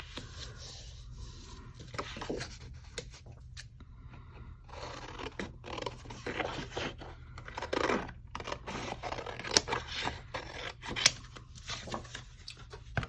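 Thick cardstock being cut by hand with scissors in a quiet craft setting: repeated close crisp snips and scraping rasps, uneven in rhythm, growing busier toward the end.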